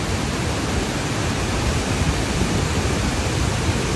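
The Agua Azul waterfalls give a loud, unbroken roar of rushing water, broadband and steady throughout with no voices.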